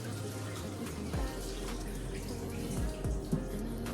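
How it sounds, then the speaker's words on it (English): Water runs steadily from a kitchen sink tap while apple cider vinegar is poured out and raw chicken is rinsed, a continuous close splashing wash with a few soft knocks and no talking. "so I'm pouring out the apple cider vinegar"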